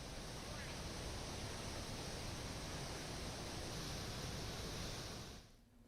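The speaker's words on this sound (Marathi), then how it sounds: "गोदावरी नदीवर असलेल्या सोमेश्वर धबधबा हा सुद्धा आता ओसंडून वाहू लागलेला आहे" The Someshwar waterfall on the Godavari river, swollen and overflowing with monsoon water, roars as a steady broadband rush that holds evenly throughout before cutting away at the very end.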